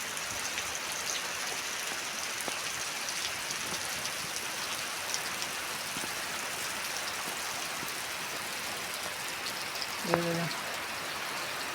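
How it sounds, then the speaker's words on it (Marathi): Light rain falls steadily, a soft even hiss throughout, with a short faint clatter toward the end. "रिमझिम पाऊस चालू आहे"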